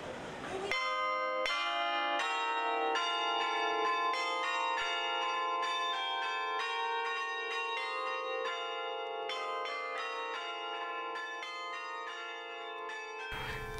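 Carillon bells, five centuries old, ring out a melody, many bright tuned tones overlapping and sustaining continuously, full and resonant.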